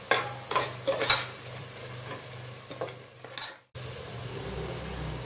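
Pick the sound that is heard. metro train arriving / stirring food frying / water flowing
stirring food frying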